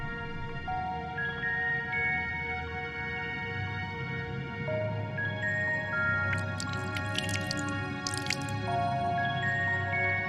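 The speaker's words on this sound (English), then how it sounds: "As Runar slightly sprays you with water, your skin begins to tingle." Soft dripping and squishing water sounds play as a character is lightly sprayed with water in Final Fantasy XIV: Shadowbringers, with a steady layered musical backdrop and a few bright splashy bursts near the end.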